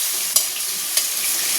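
Pointed gourd frying in a pan gives a loud, steady sizzle, heard close. Two brief scraping stirs of the pan break through it.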